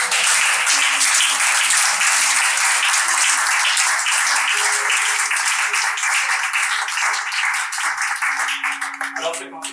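A church congregation claps and cheers in praise of Jesus, a dense, loud, sustained wave of applause with shouted acclamations mixed in, easing slightly toward the end.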